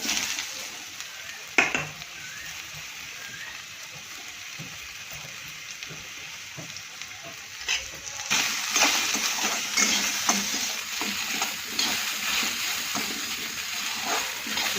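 Potatoes go into a pan of frying okra (bhinda) for a Gujarati bhinda bateta sabzi, followed by a steady, close sizzle with scraping and stirring that grows louder partway through.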